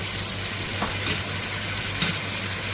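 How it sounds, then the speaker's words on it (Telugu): Grated tomato puree frying with prawns in a pan, a constant dense sizzle with a couple of brief stirring scrapes, close and unbroken, no voices. "బాగా ఫ్రై చేసుకోవాలి మొత్తం ఈ టమాటా వాటరు రొయ్యలో ఉన్న వాటరు మొత్తం బాగా"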